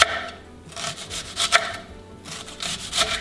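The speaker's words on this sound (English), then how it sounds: "I'm just going to take some slices of this onion." A knife slices through an onion on a board while cooking catfish outdoors, several scraping cuts in an irregular rhythm, close and clear with no talk.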